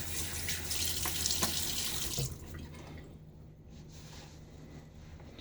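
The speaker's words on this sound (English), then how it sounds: "Water on my face." Running water splashes at a sink for a couple of seconds, then fades to a quieter, steady background hiss.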